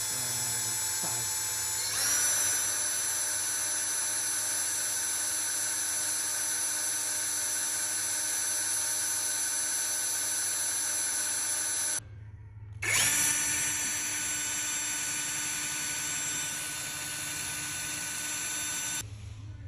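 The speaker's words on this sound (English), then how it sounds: "So I started with the two small pilot holes before I drilled the final size." A power drill bores mounting-bolt holes in the door stop bracket area of a BMW 2002, whining at a steady high pitch, pausing briefly, then spinning up again for a second long run, with no talk.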